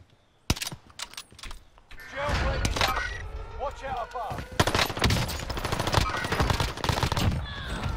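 Gunfire in the video game Call of Duty Warzone, with a sharp early shot followed by dense bursts of rapid shots and impacts, loud and close, as players talk over it.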